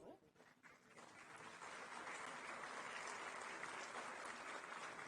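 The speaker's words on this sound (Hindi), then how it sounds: "आप तालियों के माध्यम से शुभकामनाएं हमारे इन नव नियुक्त अनुदेशकों तक पहुंचाएं।" An audience at a government appointment ceremony for new instructors claps loudly and steadily, the sustained applause rising after a brief start and continuing evenly throughout.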